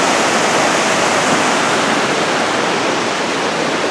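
A creek rushes beneath a bridge on a mountain trail near Annette Lake, a loud, continuous broadband roar of flowing water close by, steady with no voices.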